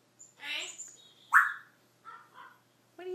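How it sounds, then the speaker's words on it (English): Pet bird chirping nearby in short bright calls and squawks, separated by brief pauses, with a person talking to it in between. "Echo Bird. Are you a good bird?"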